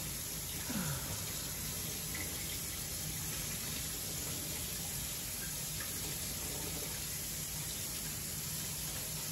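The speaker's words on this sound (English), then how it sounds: "I'm gonna rinse my knife off" A kitchen tap runs in a steady broadband gush as a knife is rinsed under it, a constant faint stream of water with no talking.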